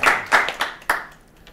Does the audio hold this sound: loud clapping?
yes